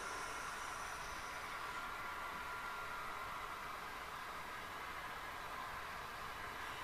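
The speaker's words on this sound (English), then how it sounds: "This is a mixed freight train." A quiet, steady hiss and rumble of a model mixed freight train rolling continuously on a layout, even and unbroken, with a faint high whine early on.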